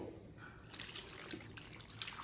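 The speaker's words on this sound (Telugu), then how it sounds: "మళ్ళీ ఇంకొకసారి వాటర్ పోసి క్లీన్ చేస్తున్నాను చూడండి" Faint running water splashing and trickling, poured into a bowl while goat head meat with turmeric is rinsed by hand, quiet and continuous.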